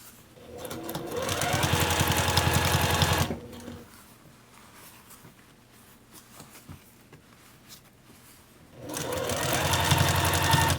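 Sewing machine stitching a hem on jeans, running loud and steady in two bursts with a quieter pause of handling between them, as if the hand wheel is turned over a thick seam.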